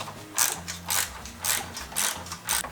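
A ratchet socket wrench works on a Tesla Model 3, its pawl clicking in about six quick bursts at an even rhythm, close and fairly quiet, with no talking.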